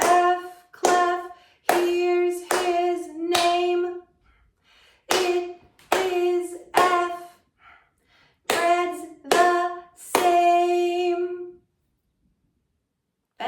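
Sharp hand claps in rhythmic groups during a music class, several short bursts of evenly spaced claps separated by brief pauses, close and clear.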